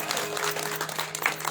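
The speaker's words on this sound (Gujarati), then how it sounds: "એમને જોરદાર તાળીઓથી વધાવો." An audience at a gathering applauds to welcome a folk singer, a brief, fairly faint patter of steady clapping with a murmur of voices beneath.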